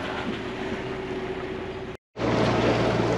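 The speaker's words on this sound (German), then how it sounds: "Leider ist der Wind komplett eingeschlafen und wir mussten den Motor starten." A sailboat's engine motors along the outer reef off Huahine in French Polynesia, giving a steady, loud drone with a brief cutout partway through before the hum resumes, with no voices.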